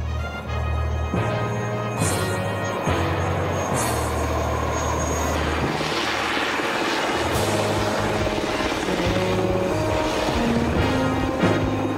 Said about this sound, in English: the helicopter returns to quickly extract the rescue party and pilot